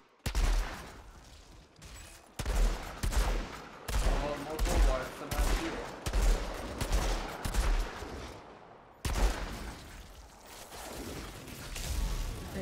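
Video-game gunfire from the shooter Outriders crackles in rapid bursts of automatic shots, loud and close, broken by short gaps, with a voice faintly under the firing.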